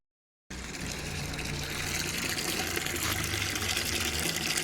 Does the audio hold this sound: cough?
no